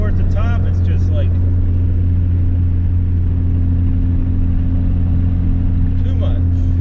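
A Chrysler Conquest engine pulls hard through second gear toward the top end, a loud steady drone heard from inside the car that fills the whole clip.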